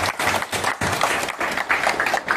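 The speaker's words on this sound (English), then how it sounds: "Please give a big round of applause for yourself." Teachers at a CBSE active-learning training session in Guwahati clap for themselves, a brisk, uneven patter of applause from a modest group, heard alone.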